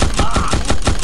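A loud, rapid burst from an automatic weapon in the shooter game Guns of Boom fires about ten evenly spaced shots, close and with no talking.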